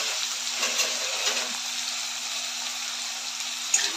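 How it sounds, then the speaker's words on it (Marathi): Potatoes, peanuts and green chillies roasting in ghee give off a steady, soft sizzle close by, continuous and even with a faint clink near the end. "बटाटा आणि शेंगदाणे सर्व व्यवस्थित भाजून घेते मी"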